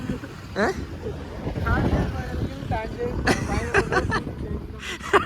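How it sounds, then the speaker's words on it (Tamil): Strong wind buffets the microphone in rumbling gusts while people talk over it throughout. "இப்போ காற்று அடிக்குது சூறாவளி புயல் காற்று அடிக்குது"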